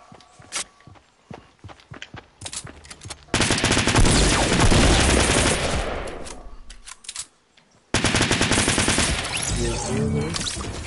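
Gunfire and explosive bursts from a gold grenade launcher in the Fortnite video game, starting with scattered short footstep-like hits and then giving way to two long, loud stretches of dense blasts separated by a brief silence.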